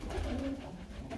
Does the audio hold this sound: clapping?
no